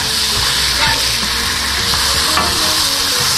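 Smashburger patties sizzle loudly on a flat griddle just after being flipped, a steady dense frying hiss with a few small pops and scrapes, close up and with no voices.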